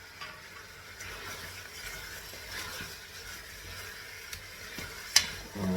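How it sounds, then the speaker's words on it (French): Chicken drumsticks with saffron and spices get stirred in a pan, a soft continuous sizzle with faint scraping and a sharp utensil clack near the end, no talking. "Je vais mélanger tout ça encore"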